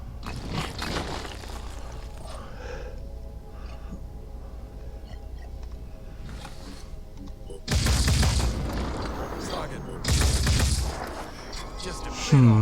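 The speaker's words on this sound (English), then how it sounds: "let's see if you can set off any of those other explosions." Two heavy, booming explosions in the video game Phoenix Point burst out a couple of seconds apart, loud against a quieter stretch of game sounds, with someone talking around them.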